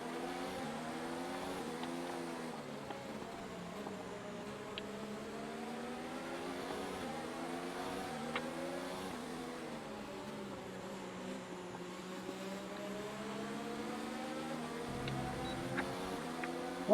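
Formula 1 race car engines in F1 2019 at the Hungarian Grand Prix, a steady layered whine of several cars running close together, pitch rising and falling through shifts and corners, continuous at moderate level with no talk.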